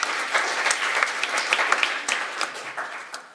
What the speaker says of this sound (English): give another round of applause for my colleagues that stood before me